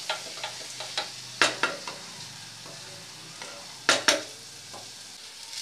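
Chicken chorchori stir-fried in a pan with green chilli and a pinch of sugar: a steady sizzle of frying under sharp, intermittent scrapes and clacks of a spatula stirring, with a couple of louder strokes.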